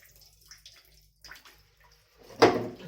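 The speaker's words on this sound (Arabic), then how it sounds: "سيبت عليها كده ميه شويه تشطف برضو كويس" Tap water briefly runs and splashes while raw chicken is rinsed in a kitchen sink, a short loud burst near the end after quieter handling sounds.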